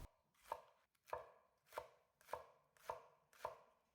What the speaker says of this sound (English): Bunch the spring onion together and slice thinly.